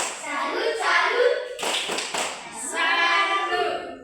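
Schoolchildren in an Indonesian classroom perform a rhythmic group clap cheer for classmates, with loud bursts of hand claps mixed with children's chanting voices throughout.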